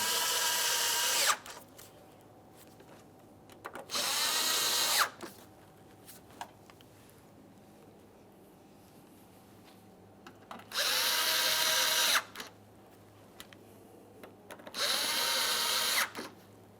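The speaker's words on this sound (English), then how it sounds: "We'll tighten those 4 mounting screws." A power drill tightens the mounting screws on a 2014-2018 Mazda 3 front bumper cover in four close, loud whirring bursts separated by quiet pauses.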